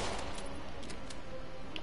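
Enemy gunfire in a Spider-Man video game, steady and busy, with several faint bursts over a constant rumbling background mix.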